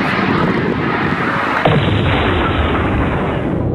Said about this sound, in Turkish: İlk fırlatılan roket binanın duvarında patladı.